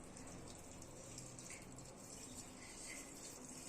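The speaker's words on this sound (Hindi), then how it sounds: "इसमें डालेंगे हम इतना पानी ताकि ये सूरन अच्छे से" Water pours steadily into a cooking pot holding suran (elephant foot yam) and tamarind leaves, a continuous close gushing splash running without a break and with no talk over it.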